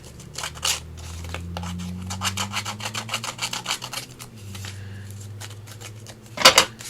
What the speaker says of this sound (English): I might be able to still do some distressing on some of this stuff